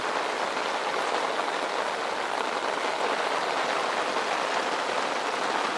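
Rain pours steadily onto an iron-wall hot tent, making a dense, even hiss of drops that runs without a break and with no voices.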